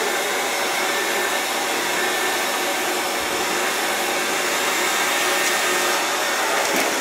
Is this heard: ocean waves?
no